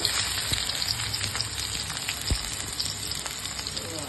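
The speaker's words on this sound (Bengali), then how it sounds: "তেলের মধ্যে এখন আমি পেঁয়াজ দিয়ে দিচ্ছি" Onions dropped into hot oil in a wok (kadai) for a mustard hilsa curry, giving a dense, even hiss of sizzling throughout with a couple of faint knocks. No one speaks.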